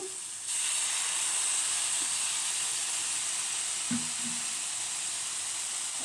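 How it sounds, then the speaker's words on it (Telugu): Soy sauce hits a hot, sizzling pan, giving a steady bright hiss and steamy crackle that holds loud throughout, with a couple of brief clinks from a utensil partway through and no talking. "ఇప్పుడు నేను సోయా సాస్ వేస్తున్నాను"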